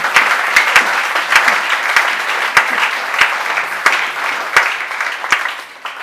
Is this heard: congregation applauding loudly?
yes